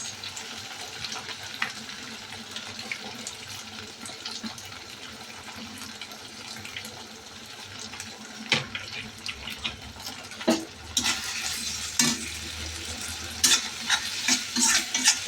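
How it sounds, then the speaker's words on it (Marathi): Soy sauce is poured into a stir-fry with red chili in a hot pan, bringing a louder sizzling hiss while stirring scrapes continue, close and steady. "आता टाकूया सोया सॉस."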